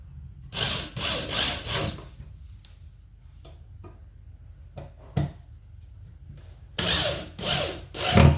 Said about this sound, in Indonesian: tinggal kita kencangkan pakai bor.